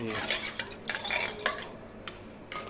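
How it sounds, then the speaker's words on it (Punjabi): A ladle stirs mango juice into milk in a pot while ice cream is being made. Soft scraping swishes and a few light clinks against the pot come in uneven strokes, close and fairly quiet. "ਨਾਲ ਦੀ ਨਾਲ ਹਲਾਈ ਚੱਲਣਾ ਥੋੜਾ ਥੋੜਾ ਇਹਨਾਂ ਨੂੰ ਕੜਛੀ ਨਾਲ"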